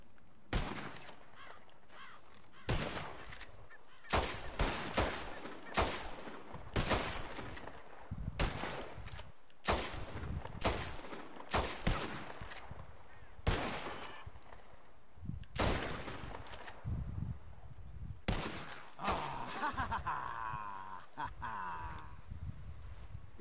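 Gunfire in Red Dead Redemption 2 during a bird-shooting contest, with sharp loud shots cracking out one after another at irregular intervals and faint rustling between them.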